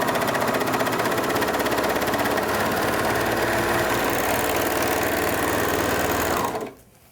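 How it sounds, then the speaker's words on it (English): A Bernina serger stitching a 4-thread balanced overlock seam through quilt layers runs at steady high speed with a loud continuous mechanical hum and rapid needle chatter, then stops abruptly near the end. "I have my serger set for a traditional 4-thread balanced overlock, and we're going to simply stitch."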